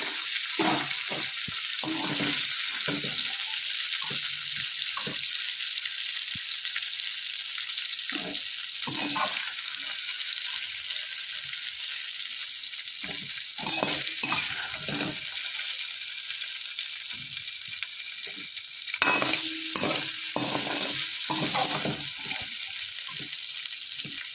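Cauliflower florets fry in hot oil in a home kitchen pan, a steady sizzle running throughout with repeated scraping and stirring knocks from a spatula, close and fairly loud, no talking.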